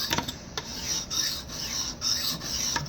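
Hatchet blade being sharpened on an Edge Pro sharpener, a steady close rasping scrape of stone on steel in repeated strokes, each pass rising and falling, with no talk.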